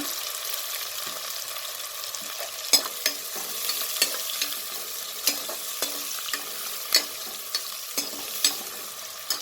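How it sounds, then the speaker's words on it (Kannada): Three onions frying in a pan for veg biryani give a steady, close hiss with scattered crackles and periodic scraping taps from stirring. "ಈಗ ಲೈಟ್ ರೆಡ್ ಆಗೋ ತನಕ ಫ್ರೈ ಮಾಡ್ಕೊಳ್ಳೋಣ."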